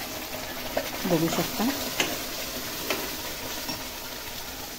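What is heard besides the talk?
ground masala paste sizzling in hot oil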